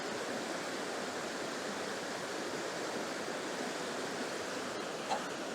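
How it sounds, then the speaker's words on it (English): A small cascade runs out of the woodland on Dartmoor in autumn, giving a steady broadband rush of falling water that stays even and close throughout. "there's a small cascade coming through out of the woodland"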